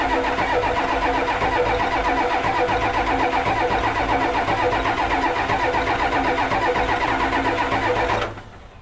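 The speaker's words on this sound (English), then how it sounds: "I'm gonna just give this a crank over till we see fuel coming out of the exhaust" Old abandoned junkyard Ford wrecker's diesel engine cranking steadily on the starter for about eight seconds, a loud, close, even rhythmic churn that stops abruptly without catching.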